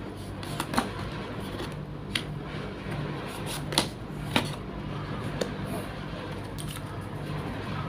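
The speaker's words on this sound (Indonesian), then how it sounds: "Saya rapikan dulu sisa kartunya." Tarot cards being handled and tidied into a stack, soft rustles with a few sharper taps and clicks scattered across a quiet room, no talk.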